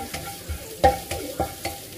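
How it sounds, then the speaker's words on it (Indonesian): Minced garlic sautéing in a pan makes a soft sizzle broken by a few quick stirring scrapes, close and without talk. "Kita tumis sampai wangi."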